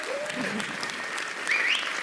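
Applause from an audience for the performer Yana Aziel at a dance show, a steady wash of clapping with brief voices rising over it near the end.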